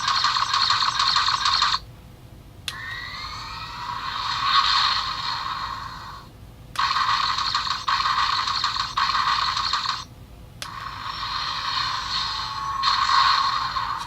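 Electronic sound effects from a Revell Build & Play Lando's Millennium Falcon toy, several loud buzzy synthetic bursts in sequence with brief gaps between them, heard alone and close.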